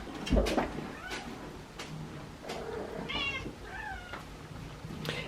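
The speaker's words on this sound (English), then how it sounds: "every time she leaves the room by herself, she starts crying because she wants to be with the other cats." A domestic cat, one of a group of feral rescue cats, cries out alone in a few distinct meows spaced over several seconds, close and moderately loud, with small thumps and room noise between them.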